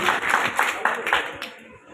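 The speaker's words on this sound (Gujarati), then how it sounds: "જોરદાર તાળીઓના ગડગડાટથી આપણે એને વધાવશું।" A burst of clapping from a group at a welcome ceremony, fairly close and lively, that thins out and fades over two seconds.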